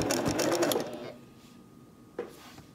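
Sewing machine stitching quilt binding on a 45 degree angle toward a corner, a dense close whirring run for about a second that stops, followed by quieter handling and a soft click.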